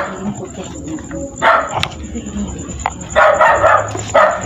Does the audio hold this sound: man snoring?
no